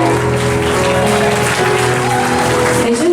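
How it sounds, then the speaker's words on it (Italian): A short burst of audience applause at an orchestra performance in a hotel venue, steady and dense throughout, with some voices mixed in. "Vi chiedo un applauso ad Alex Villani."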